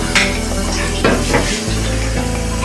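Half a cup of oil heats in a frying pan on a stove for a dal tadka, giving a steady close sizzle with a few brief clinks of utensils against the pan.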